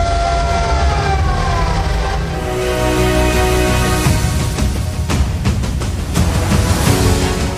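A siren sounded by button press at the inauguration of Kertosono market, a loud, sustained wailing tone with rising and falling pitch, accompanied by background crowd and engine noise.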